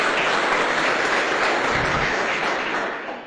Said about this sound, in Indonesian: Aplaus untuk Mooncort ya.